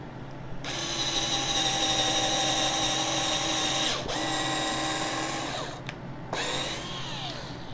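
A power drill driving screws while building a sawhorse whirs loudly and steadily, stopping briefly a couple of times before starting again, close up with no talking.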